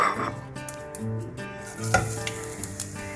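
Fennel seeds and crushed black pepper sizzle in hot oil with curry leaves in a pan, Kerala-style cooking for a chicken liver fry, a steady crackling fry with a few sharper pops and stirring scrapes, close and alone.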